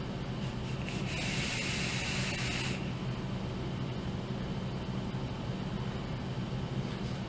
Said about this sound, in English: That was a little bit of a dry hit.